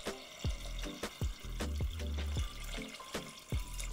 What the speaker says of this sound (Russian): Заливаем это все 900 мл холодной воды.